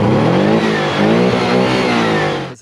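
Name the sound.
Porsche 718 Boxster flat-four engine revving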